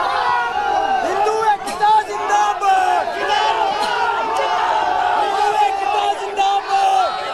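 A large street protest crowd in the Sanjauli area of Shimla, over an illegal mosque construction, shouts and chants continuously and loudly, with overlapping voices and brief dips, amid a dense outdoor roar.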